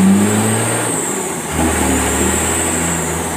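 Small engine on a riding vehicle with a modified governor spring and fuel plate revving hard during a test drive, a loud, close, sustained drone that dips briefly and then climbs again with no talk.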